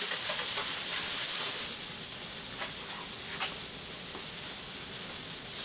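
Green beans cooking in a hot pan give off a steady, close hiss and sizzle, slightly louder at first and then settling into an even frying noise with faint pops.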